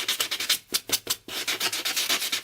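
A sand block rubs back and forth across fingernails in quick, rhythmic close strokes, a soft raspy scratching with a short pause midway.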